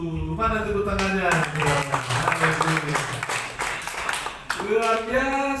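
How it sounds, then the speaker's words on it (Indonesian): A church congregation claps after a preacher's line about Jesus, steady applause running beneath a voice that speaks over it almost throughout. "Mana tepuk tangannya?"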